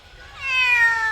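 A cat meows once, a drawn-out, rising-then-falling cry heard close and clear, with no talking over it.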